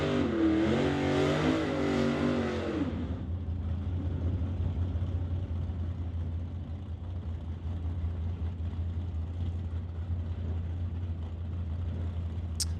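At a drag strip, a Studebaker and a Chevy II roar loudly at first, then the sound drops to a steady distant engine rumble that carries on through the rest.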